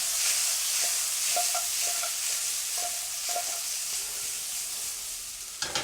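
Chorizo fries with red and yellow peppers in a pan, giving a loud, continuous hissing sizzle with faint clinks of stirring and a louder clatter at the very end.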